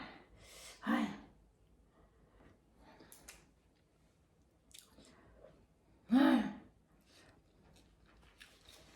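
Someone eats stir-fried pink rice vermicelli, with faint close-up chewing and a couple of sharper bites or gasps against a quiet room background.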